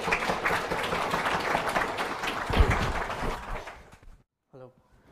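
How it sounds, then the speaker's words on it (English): A conference audience at DevFest Vienna claps for a speaker, a full round of steady applause that gradually thins and dies away, followed by a short moment of a voice speaking. "give him applause for coming here"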